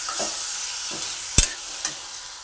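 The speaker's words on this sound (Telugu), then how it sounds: "ఇప్పుడు టమాటా వేసుకుందాం. వేసుకొని బాగా కలుపుకుందాం ఫ్రెండ్స్." Tomatoes go into a frying pan and are stirred with turmeric-browned ingredients for an egg and tomato curry: soft background sizzle broken by a few sharp spoon scrapes and knocks against the pan, one clearly louder than the rest.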